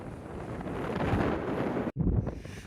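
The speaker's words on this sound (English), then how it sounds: "we've had the dreaded strong wind warning" Strong wind roars and buffets loudly against the microphone, a dense, continuous rush that cuts out briefly near the end and then returns.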